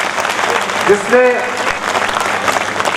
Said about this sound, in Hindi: एक बार दोनों हाथ उठाकर जोरदार तालियां दिनेश के लिए